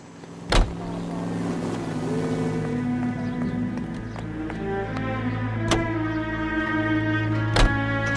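Car driving in the video game L.A. Noire, a steady engine drone with shifting pitch and a few sharp thumps, played under a light background score.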